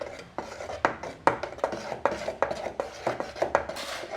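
Red rice dosa batter is stirred with salt in a bowl, producing a steady run of close scraping, clinking strokes at an even rhythm with no voices.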